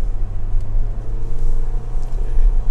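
A Renault Captur 1.6 with CVT in normal drive climbs a steep mountain road under heavy load, its engine a loud, steady low drone that wavers slightly, heard from inside the cabin with no talking.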